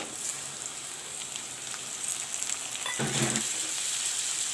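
Chopped tomatoes frying with golden brown onions in a pan for egg bhurji, a steady close sizzle with a brief louder burst of crackling and stirring near the end.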